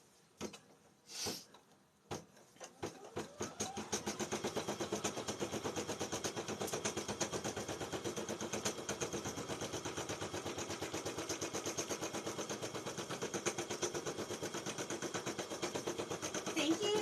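A sewing machine stitching fabric: after a few sharp knocks and a brief voice, the needle starts a fast, even mechanical chatter that runs steadily and moderately loud to the end.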